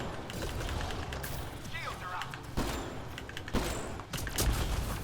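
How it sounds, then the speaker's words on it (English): A Turian soldier fires weapon shots in the Mass Effect Andromeda video game, sharp reports popping out at intervals through a busy battle mix while someone talks throughout. "So we're going to fire 2 shots off."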